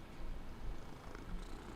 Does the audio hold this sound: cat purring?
yes